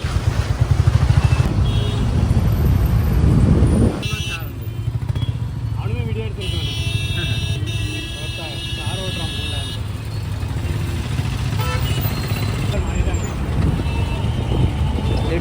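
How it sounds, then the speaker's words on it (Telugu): Dense road traffic surrounds the listener with rumbling trucks, cars and motorcycles, engines droning near and far alongside intermittent horn tones and beeps, while voices talk over the steady roar. "లిటరల్లీ ఎటు చూసినా ట్రాఫిక్."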